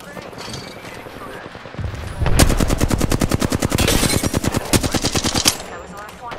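Rapid automatic gunfire from Apex Legends, a long loud burst of evenly spaced shots lasting about three seconds, rising after a brief muffled thump, with faint game ambience before and after.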